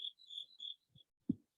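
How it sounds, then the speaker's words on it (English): Crickets chirp outdoors at sunrise in several short, high trills, faint and close, followed by a single soft low thump; no talking. "sitting out and listening to the crickets and just watching the sun come up"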